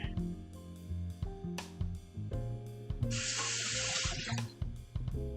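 A vegetable is rinsed under a running kitchen tap, a steady hiss of water splashing into the sink for a couple of seconds amid background kitchen clatter and music-like tones.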